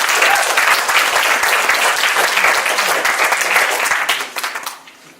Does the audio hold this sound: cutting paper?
no